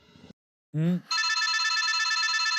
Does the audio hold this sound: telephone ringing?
yes